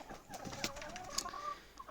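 Chickens and a rooster cluck and call intermittently at close range on a frosty day, with brief sharp calls standing out over a quiet background; no talking.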